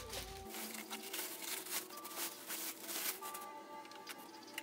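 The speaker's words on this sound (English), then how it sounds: "we're gonna unwrap all the plastic wrapping." Plastic wrapping being pulled off a new Singer Quantum Stylist 9960 sewing machine, close, quiet crinkling and rustling in a continuous flurry of small crackles.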